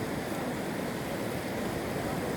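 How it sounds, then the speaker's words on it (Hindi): Flood water rushing past as a torrent, a loud, constant broadband roar with no breaks, filling the whole moment alone without any voices. "बहुत बड़ा पानी बहुत बड़ा सैलाब है।"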